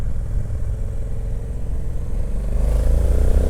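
A 2020 Honda Africa Twin Adventure Sports motorcycle in sport mode, engine note steady and close, rising louder toward the end as the throttle is opened.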